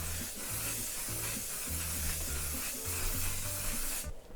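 A soft hissing spray from a cosmetic spray product being applied in circular motions, a steady continuous hiss lasting several seconds that cuts off abruptly at the end.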